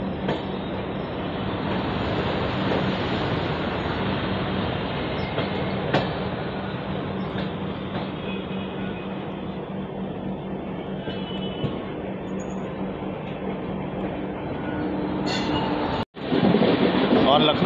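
A train rolls past the Howrah–Amritsar Punjab Mail at the Lucknow outer, heard from inside a third AC economy coach of the Triveni Express: a loud, steady rail rumble and rattle with a brief dropout near the end, and a voice underneath.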